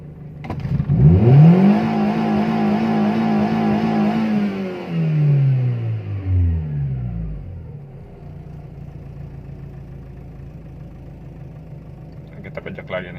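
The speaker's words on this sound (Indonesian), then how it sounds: "untuk mengecek akselerasi naiknya RPM dari awal sampai menuju ke titik RPM tertinggi, tesnya dibejek aja gasnya" A Timor car engine revs sharply from idle toward high RPM, holds, then falls back and settles into a steady idle, heard close with no talk over it.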